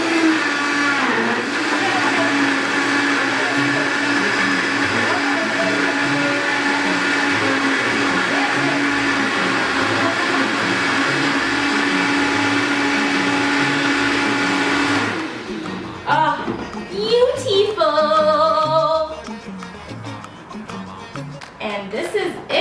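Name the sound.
blender blending sofrito ingredients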